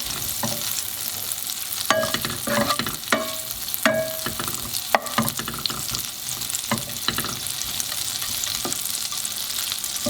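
Butter sizzles and spits in a hot pan for orange chicken sauce, a steady frying hiss punctuated by sharp utensil clinks and scrapes against the pan, close and fairly loud.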